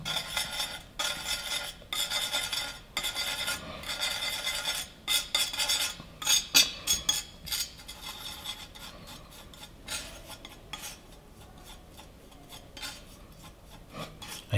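Powdered pigment is worked into egg yolk mixture for egg tempera, a close gritty scraping and rubbing in uneven strokes with small clinks of a tool against a hard surface and short pauses between bursts.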